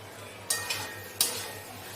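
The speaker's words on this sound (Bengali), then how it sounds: "এরপর ভেজে রাখা পটল আর আলুগুলো আমি এর মধ্যে দিয়ে দিলাম।" Fried pointed gourd and potato pieces tipped into a pan of cooked-down spiced masala, giving a few close, sharp scraping and clattering stirs against the pan over a faint low hum.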